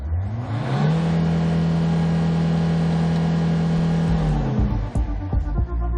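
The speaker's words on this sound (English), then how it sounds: "The engine sounds very good, very normal, and the RPMs are going up very smoothly." The 2.7-litre engine of a 2007 SsangYong Rexton II 4WD SUV revs up smoothly, holds a steady high drone for a few seconds, then drops back to idle with a click.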